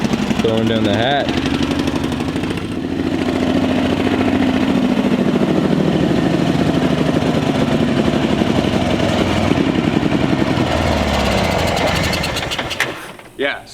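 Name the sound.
Honda Fourtrax TRX 350 ATV engine running, struggling to idle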